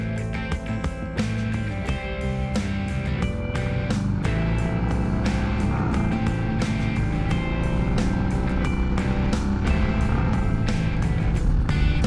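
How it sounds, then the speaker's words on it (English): Harley-Davidson Sport Glide motorcycle riding with a loud continuous engine rumble that rises and drops as gears shift, with steady wind and road noise, no talking. "the bike shifts so well after that clutch adjustment"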